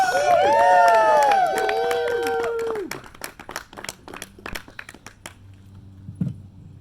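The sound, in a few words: audience applause and cheering for comedian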